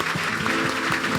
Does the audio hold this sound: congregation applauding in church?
yes